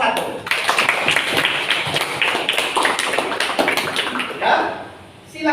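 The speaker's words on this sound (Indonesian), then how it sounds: "Tepuk tangan untuk kelompok 1" Classroom applause for the first student group after their presentation, a dense, lively patter of many hands clapping together for a few seconds, with some voices mixed in.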